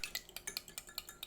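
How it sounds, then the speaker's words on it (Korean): Eggs whisked in a bowl while making Korean egg soup: a quick, steady run of light clinks and taps, about ten strokes in just over a second, fairly faint and with no voices. "계란을 풀어주세요."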